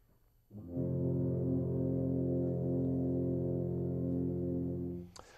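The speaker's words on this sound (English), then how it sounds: "And when the F tubas play together, they sound like this." A group of F tubas holds a deep, rich sustained chord for several seconds, steady and full before it tapers off.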